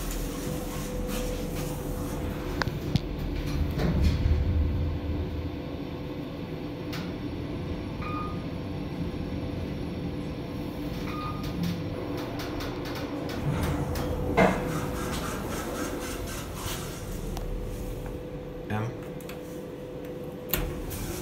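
A Kone KSS 500 EcoSpace machine-room-less traction elevator runs in a parking garage at Southgate Centre in Edmonton, Alberta, giving a steady low hum with faint clicks and ticks, a couple of soft chimes, and someone talking over it.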